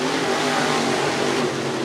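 IMCA Sport Mod race cars roar through a heat race, a steady, loud wall of engine noise that stays dense and unbroken throughout, with no clear voices over it.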